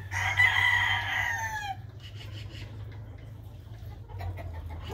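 A rooster crows loudly once, a long strained call trailing off, followed by quieter rustling and faint clucks over a low steady hum.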